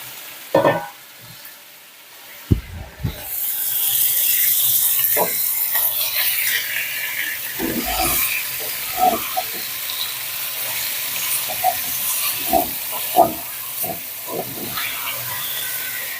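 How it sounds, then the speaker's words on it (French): Veal tendrons browning in hot oil in a pot give a steady close sizzle and hiss, with occasional sharp clicks and stirring knocks and no talk. "je vais mettre ma viande à revenir et on va la faire dorer"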